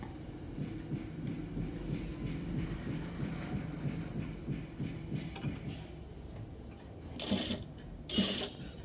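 A sewing machine stitches a blouse, its motor running in a steady, close rhythmic whir for most of the stretch before a few brighter clicks and rustles near the end.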